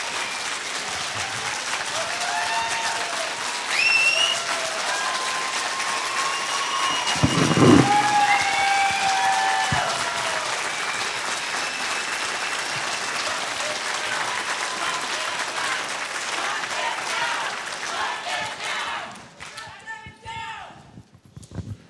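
Audience at a public hearing on an Illinois EPA permit for Willowbrook breaks into loud, sustained applause mixed with cheering and crowd voices for about nineteen seconds, then it fades as the room quiets.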